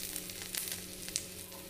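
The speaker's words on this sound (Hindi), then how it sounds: "अब हम इसमें ऐड करेंगे भिंडी," Okra is added to ivy gourd frying in a pan, giving a low, steady sizzle with a few faint clinks and no talk.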